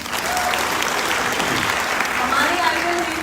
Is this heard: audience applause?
yes